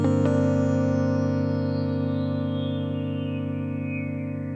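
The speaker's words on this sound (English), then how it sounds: "Punchy Piano Wire. This is number 9." A Korg opsix 2.0 synthesizer plays its Punchy Piano Wire preset: one sustained chord with a bright, plucked wiry attack, rich layered harmonics and effects, slowly trailing off over several seconds, with no talking.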